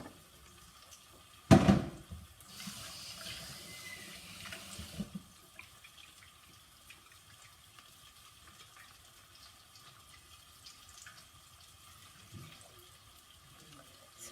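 Peeled eggs rinsed under a running kitchen tap: a sharp splash, then a few seconds of gushing water, fading into quiet background hum and faint handling sounds.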